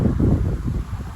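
A strong south wind gusting at around 46 to 70 km/h, a loud low rumbling buffet against the microphone that swells and eases unevenly.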